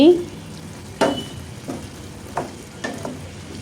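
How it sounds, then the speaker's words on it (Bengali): Bottle gourd with prawns frying and sizzling in a pan, with a few distinct scraping stir strokes spaced about a second apart over a steady low sizzle. "মাঝে মাঝে একটু খুলে নেড়ে দিচ্ছি"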